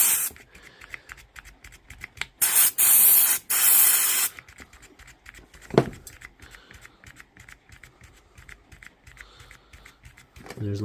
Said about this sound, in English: spray it with electrical contact cleaner and round the motor and then round the switch here